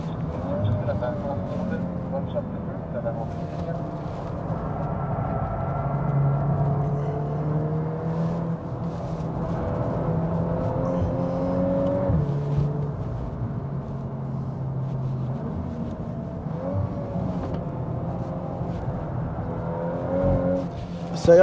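A 2022 Volkswagen Golf R lapping the Dubai Autodrome circuit, its engine a steady drone that rises and falls with gear changes throughout, with someone talking over it the whole way.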